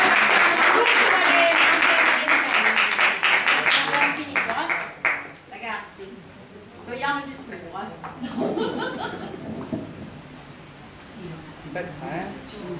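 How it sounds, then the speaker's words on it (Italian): An audience applauds at an Italian-American cultural award event in New York, loud dense clapping that fades after about five seconds into murmuring voices and light chuckles, with a few scattered claps near the end. "Un applauso."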